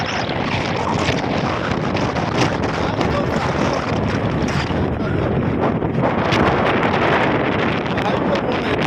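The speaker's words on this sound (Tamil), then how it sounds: "ஹைப்பர் மோடில் போட்டோம்னா வண்டி செம பிக்கப்பு" An Ola electric scooter accelerates hard in hyper mode, heard as steady, loud rushing wind buffeting the microphone across the whole ride, with a voice talking over it.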